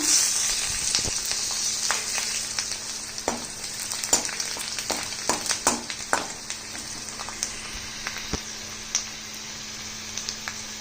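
Garlic cloves sizzling in butter in a pan, a steady close frying hiss with scattered pops and crackles, and occasional stirring clicks, no voices.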